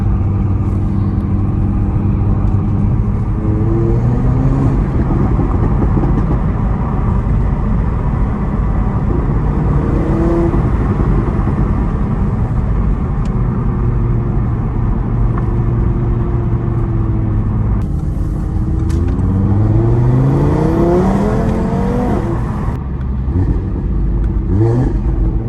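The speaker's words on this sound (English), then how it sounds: "That 5-cylinder in this car sounds amazing." Audi TT RS MK3 five-cylinder engine revving hard through the gears, loud and close, with rising pitch sweeps on each pull and brief dips at the shifts over a constant deep rumble.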